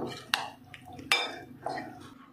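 Cauliflower florets being mixed with masala in a bowl for gobi manchurian, heard as three sharp clinks of a utensil against the bowl with soft wet shuffling between them, close and fairly quiet.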